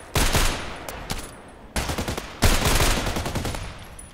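Rapid gunfire from the DT-SRS, a heavy sniper rifle, in a shooter video game: dense bursts of loud repeated shots in two main volleys with a short gap, close and alone with no talk.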